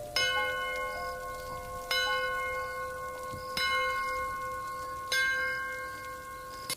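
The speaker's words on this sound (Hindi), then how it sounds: "अचानक घंटा बजने की आवाज गूंजी" Bell struck four times at even intervals on a rainy night in a horror cartoon, each loud metallic clang ringing out with a long sustained tone over a steady hiss of rain.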